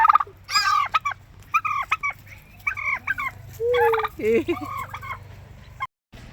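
Several turkeys gobble nearby at Eco Park in Angul, in repeated warbling bursts, calls overlapping against a low background hum.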